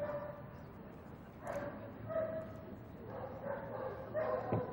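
Dog at a Moscow protection-training ring in the 1990s gives faint, distant yips and barks amid crowd murmur and voices in a large open space.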